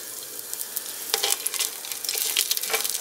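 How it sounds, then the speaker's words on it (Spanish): Onion, garlic and chiles sizzling in olive oil in a pan over low heat, a continuous crackling fry with bursts of louder spattering as they are stirred, close and without talk. "Ahí vamos a guisar la cebolla, el ajo,"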